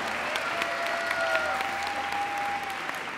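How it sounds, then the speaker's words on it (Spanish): An audience at a Mother's Day festival applauds the mothers, with steady continuous clapping filling the space and faint voices and a thin whistle-like tone underneath. "Les damos un aplauso a las mamás."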